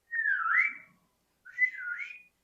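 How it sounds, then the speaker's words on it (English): Two loud, clear whistles, each sliding down and back up in pitch, sound one after the other with a short gap between them, heard alone against silence as a sound effect in a spoken fairy-tale story. "they heard a loud sound, sounded like a whistle coming through the trees"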